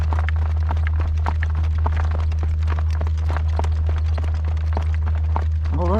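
A young horse's hooves clip-clop steadily on a road in a steady rhythm, close and fairly loud over a constant low rumble of wind.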